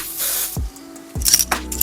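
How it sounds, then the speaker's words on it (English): Two short bursts from a spray bottle hiss close by as product is misted around the knots of a lace wig, followed by light clinks. "I'm just going to spray this around the knots."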